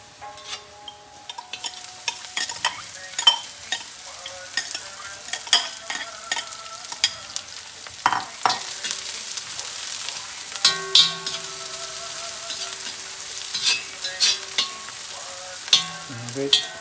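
Onions frying in a pan while making kalthappam, a continuous sizzle broken by frequent scraping and stirring clatters of a utensil against the pan, with no talk.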